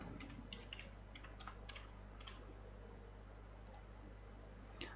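Soft, quick keystrokes on a computer keyboard, fairly faint and close, scattered in short bursts over a low steady hum with no talking.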